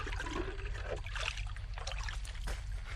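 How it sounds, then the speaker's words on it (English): Water of a spring-fed creek trickling and burbling close by, a steady soft flow with small splashy gurgles and no talk. "this spring-fed creek, I'm going to collect a little bit of water out of it"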